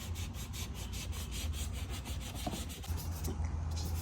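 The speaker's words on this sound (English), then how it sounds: "you're gonna have to cut it like around the edge with a Dremel or something" A Dremel rotary tool cuts around the edge of a plastic Infiniti G37 sedan taillight housing, giving a steady, continuous grinding buzz with a low motor hum throughout, close and fairly loud.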